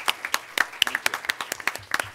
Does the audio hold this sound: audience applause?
yes